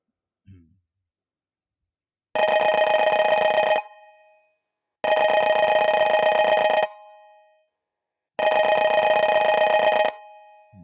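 Telephone ringback after a number is dialed on a landline: three long, loud electronic rings of about one and a half seconds each, separated by roughly a second of silence, with no voices over them.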